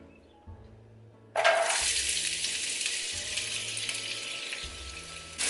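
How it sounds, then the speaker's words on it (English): Chopped onion pours into hot oil and sets off a sudden loud, bright sizzle that holds steady for several seconds, with faint low kitchen noise underneath. "Seeing some sizzle on that onion, so I'm going to go ahead and pour in my whole chopped onion."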